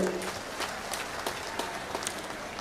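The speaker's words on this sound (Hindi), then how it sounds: "उनके लिए भी जोरदार तालियों से स्वागत करें" Applause at a BSP political rally stage in Assandh, Haryana, greeting a politician's arrival, heard as scattered, moderately faint clapping with sharp individual claps over a noisy outdoor background.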